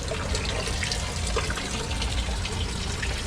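Water splashes and pours steadily from a statue's mouth in a continuous rushing stream, close and loud, with no breaks.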